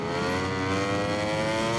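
Ducati V4 exhaust note from MotoGP 21 at the Losail circuit, a sustained buzzing engine tone holding fairly steady pitch throughout, close and loud with no voices.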